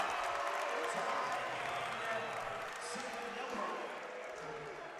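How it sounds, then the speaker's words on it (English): Loud arena crowd noise at a men's college volleyball national championship semifinal, Hawaii versus UCLA, with sustained cheering and roaring filling the whole stretch and a few sharp thumps underneath. "You can hear it, Hannah, every single point that Hawaii scores, the crowd going wild."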